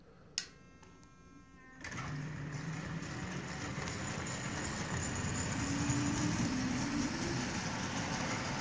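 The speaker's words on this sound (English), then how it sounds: "this has to be one of the most splendid running locomotives I've ever run" After a sharp click, a Marx 897 toy locomotive fitted with a 6-volt DC motor starts up into a steady, even electric whir and rolling hum that continues smoothly and close by without any talking.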